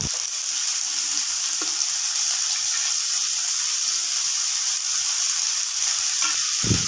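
Barada saag greens dropped onto fried onions in a pan hiss in a steady, loud sizzle, with a few scraping stirs and light clatters running through it and no talking.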